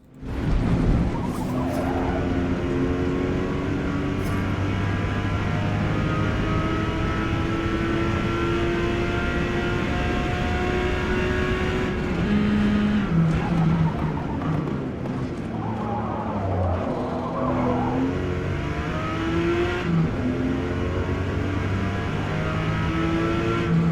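A race car in the Forza Motorsport racing game over-revs hard after a missed gear shift, its engine screaming steadily with tire squeal and skidding as it carries on at full throttle.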